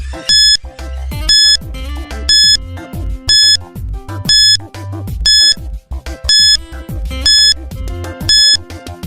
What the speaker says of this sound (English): Your timer starts now.